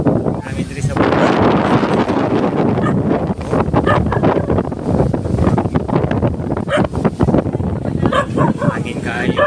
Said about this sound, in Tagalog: Hangin diri sa Pugan.